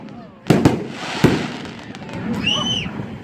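Red Apple F-Zero 5-inch 60-gram canister shells burst in two sharp, loud booms about a second apart, followed by crackling and a rising whistle, while people talk faintly in the background.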